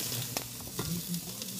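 Onions and peppers for steak fajitas frying in a pan, a steady close sizzle with brief crackling pops and some stirring clatter, no voices.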